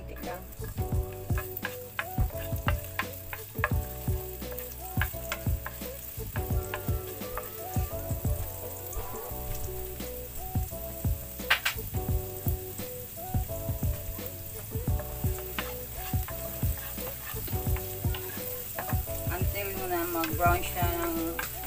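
Chopped onions fry in a pan with a continuous sizzle and crackle, broken by scraping stirs and utensil clinks, over soft background music.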